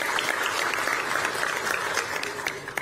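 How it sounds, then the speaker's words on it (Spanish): Audience applause in a legislative chamber honoring a former FOPREL president, steady dense clapping from a large crowd lasting the whole stretch without any voices. "pido un fuerte aplauso para ella"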